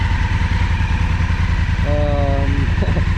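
A rented Honda Africa Twin motorcycle engine idles close by in a steady, even rumble, with a short tonal beep-like sound laid over it partway through.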